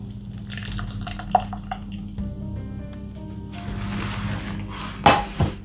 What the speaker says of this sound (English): So I'm gonna just strain it over a medium-sized bowl.